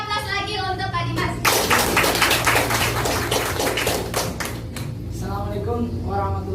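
An audience at a promotion celebration for a new marketing manager bursts into a short round of clapping that lasts a few seconds, and a voice can be heard before and after it.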